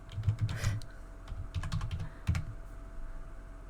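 Computer keyboard keys clicking as a password is typed, in short bursts of quick taps with pauses between, close and fairly quiet, with no talking.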